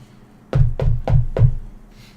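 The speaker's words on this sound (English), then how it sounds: "As you do your knock, it almost seems like the sound travels. It's hollow." Four evenly spaced knocks on a hollow floor, close and loud, each a dull resonant thud with a short boomy tail, followed by quiet.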